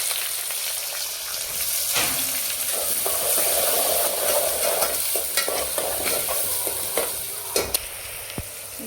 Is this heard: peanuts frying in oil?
yes